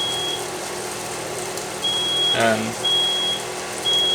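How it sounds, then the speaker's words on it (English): Smoke alarm in a home going off from grease smoke while steak grills indoors on a Coleman Fold-N-Go portable grill; high steady beeps repeat in bursts, faint and steady behind room noise and a brief spoken word. "that's a fire alarm going off"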